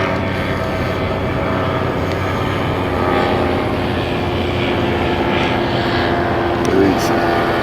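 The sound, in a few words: motorized paraglider engine and propeller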